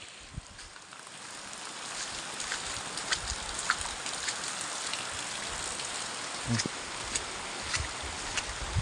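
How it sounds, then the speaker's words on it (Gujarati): Steady, dense rain hisses throughout, with occasional louder drops and splashes close by. "એ વરસાદ ચાલુ જ છે"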